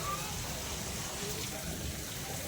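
Rainwater pours off tin roof sheets during heavy rain, a steady, dense, low-level rushing wash that holds unbroken throughout.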